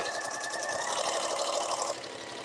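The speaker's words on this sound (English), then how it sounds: "now I am ready to sew down this row" A sewing machine stitches a seam in fabric with a fast, even whirring hum, fairly close and steady, easing off just before the end, with no talk.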